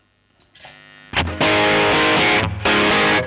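Electric guitar through a distortion pedal: a short clean-sounding lead-in, then loud, dense, saturated chords that sustain with a brief break midway.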